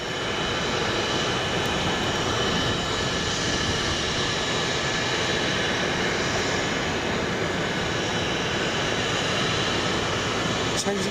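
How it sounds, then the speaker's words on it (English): An aircraft engine runs steadily at the Boeing Field engine test area, a loud continuous roar with a faint high whine, distant and unbroken throughout, with voices talking faintly underneath. "There's an engine test area down there"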